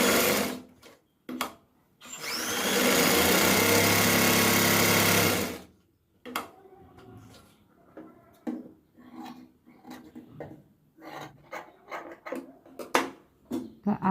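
A sewing machine stitches a lining strip onto blouse fabric in one steady, loud run lasting a few seconds. Scattered clicks and handling noises from the fabric and machine follow.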